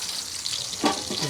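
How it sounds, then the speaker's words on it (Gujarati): Green chillies frying in hot oil in a home kitchen, a soft continuous sizzle with a brief louder crackle partway through, close by and fairly quiet. "મરચાં તળવા મેકી દીધા છે"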